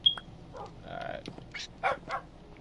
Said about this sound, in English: Come here, dog, and eat your food.